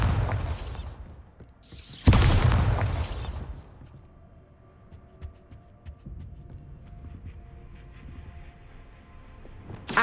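A Bombarda blasting spell goes off in Hogwarts Legacy: two loud booming blasts in quick succession, followed by a low rumbling tail and scattered faint crackles, with another burst at the very end.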